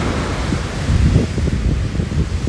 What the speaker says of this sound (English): The ocean is just so loud.